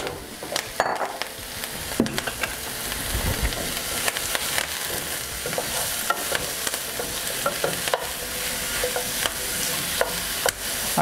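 Mushrooms fry with garlic and thyme in a pan, a steady close sizzle punctuated by frequent sharp clicks and scrapes of a utensil, with no voices.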